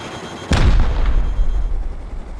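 A single loud missile launch blast in the game Rust hits sharply, then a deep roaring rumble trails on for a couple of seconds, close and powerful.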